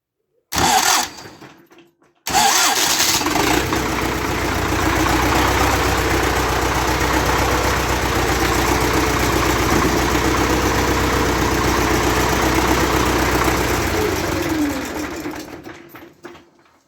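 A YuMZ-6 tractor engine starts cold after a brief starter crank, catches, and settles into a loud, steady diesel idle that runs close and unbroken before fading near the end.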